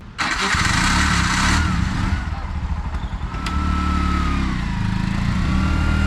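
A tuk-tuk's small engine chugs loudly and steadily nearby while the vehicle is put into reverse, with a brief high whine early on and the idle continuing throughout.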